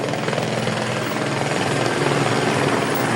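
Police helicopter flying overhead during a manhunt near a wooded area, a steady loud rotor chop and engine roar that holds constant throughout, with no voices.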